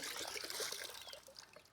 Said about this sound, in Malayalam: വെള്ളം ഓവറായി ഇങ്ങനെ കളയാം